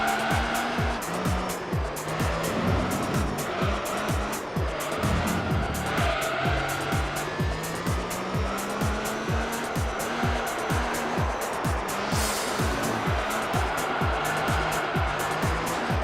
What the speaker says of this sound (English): I'll try to make it drift, but it's very hard to make it drift with TCS on.